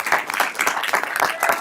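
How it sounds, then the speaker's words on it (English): An audience at a school board meeting applauds an honored student, a short burst of dense, steady clapping from a room full of people, close and fairly loud. "Give her a round of applause"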